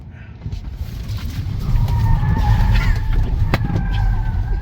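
Tesla Model Y with traction control off, tires squealing in a sustained wavering skid over the car's rolling road noise, loud and close.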